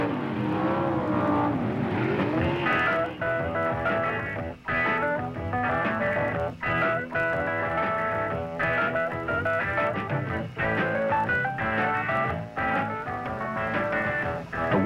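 Drag race cars roar at Ontario Motor Speedway in 1971, with loud continuous engine noise that surges and revs throughout, broken by brief dips between blasts.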